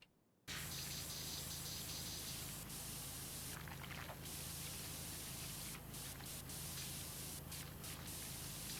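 A pressure washer sprays an ice rink in a video game, a steady loud hiss of water jet that starts abruptly after a moment of quiet and runs on without pause, with faint brief ticks flickering above it.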